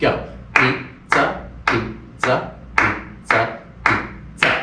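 Eight sharp hand claps land at an even, steady beat while a voice chants along in rhythm.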